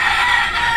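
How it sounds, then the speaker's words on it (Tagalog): A rooster crows in one sustained, loud call from a nearby yard, heard alone with no talking. "Pasensya na, maingay yung manok ng kapitbahay."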